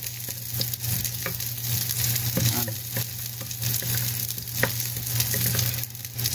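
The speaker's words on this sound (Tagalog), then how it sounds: "Unahin po muna natin ang bawang. Igisa po natin." Garlic sautés in a stainless steel pan, a constant close sizzle over a low steady hum, broken by sharp clicks and scrapes of stirring at irregular intervals, with no voices.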